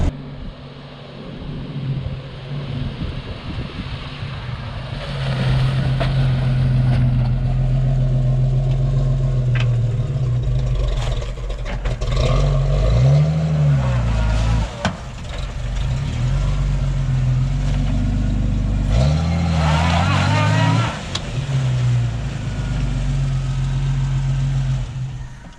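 Engine drone from a one-ton Jeep Cherokee on 40-inch tires while driving, a steady low rumble that rises and falls through several gear changes, heard from inside the cab.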